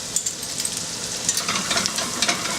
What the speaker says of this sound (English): first of all I'm going to melt this butter, into which I will now put these shallots